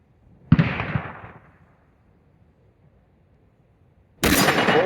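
A Winchester Model 70 .30-06 rifle fires at a big steel plate outdoors: one sharp, loud report with a decaying tail, a quiet gap, then another loud burst starting near the end.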